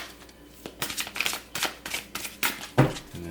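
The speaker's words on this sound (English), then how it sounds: "shuffling these cards for you" Playing cards are shuffled by hand in a series of soft, rapid slaps and riffles, close up and fairly quiet, with no voices.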